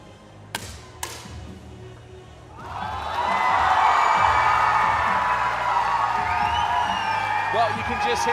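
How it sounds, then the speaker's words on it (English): A crowd at a 10m air rifle women's final at the ISSF World Cup Final in New Delhi breaks into cheering and whoops after two sharp taps, swelling loud and sustained for several seconds, with talk underneath. "Well, you can just hear the crowd, you can hear the reaction."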